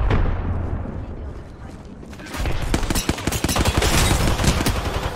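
Rapid gunfire from the video game Apex Legends on PS5, a quieter stretch giving way to dense, loud bursts of shots over the last three seconds, with voices talking faintly underneath.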